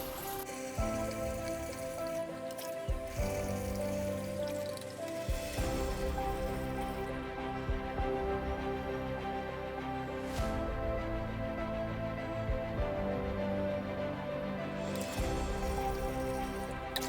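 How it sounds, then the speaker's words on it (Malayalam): Water is poured slowly into a nano aquarium, a soft, continuous trickling and splashing that runs steadily under background music. "നൈസായിട്ട് പതുക്കെ നമുക്ക് ഒഴിച്ചു കൊടുക്കാം."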